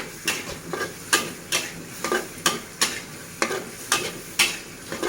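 A metal spatula scrapes rhythmically around a hot iron wok, roughly two strokes per second, over a steady sizzle of frogs stir-frying.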